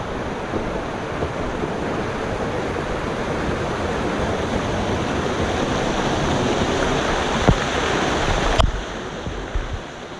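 A waterfall roars close by, a loud, steady rush of falling water that fills the whole stretch with dense broadband noise, alone apart from a couple of faint clicks near the end.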